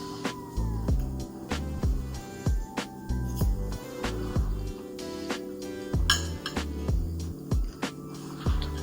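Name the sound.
fork clinking on a plate while eating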